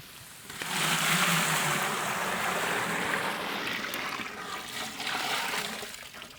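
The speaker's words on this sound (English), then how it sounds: "It's time to add water." Water pours steadily into a cooking pot of partly cooked vegetables with a rushing, splashing hiss lasting several seconds, swelling then easing slightly, with no talking.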